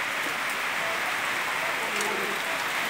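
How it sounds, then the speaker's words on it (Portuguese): Steady rain falls on a small rural farm plot where chickens are kept, a dense, even hiss with no breaks for the whole stretch. "esperando passar essa chuva aí para mim recomeçar o trabalho"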